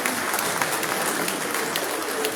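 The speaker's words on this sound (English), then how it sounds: "Let's celebrate them with a round of applause" A round of applause at a Nigerian Army end-of-year dinner party, dense steady clapping from a large seated crowd filling the room evenly from start to finish.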